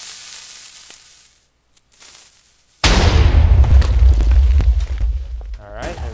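A bolt-action cannon firing in Minecraft. Quiet game ambience and a near-silent pause lead into a sudden loud blast, followed by several seconds of rumbling, crackling explosion noise that fades out near the end.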